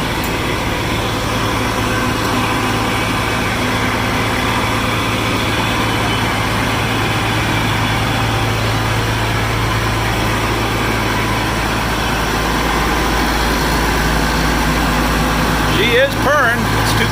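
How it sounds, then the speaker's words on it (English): A Massey Ferguson 550 combine engine idling with an oil pan problem, a steady low rumbling drone held close and loud throughout, with a brief voice near the end. "She is purring."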